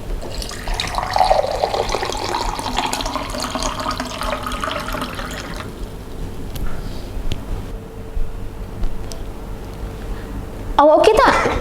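Water runs and is poured in a short film scene, a steady splashing stream in the first half fading to quiet trickles and drips, with a sharp clatter near the end.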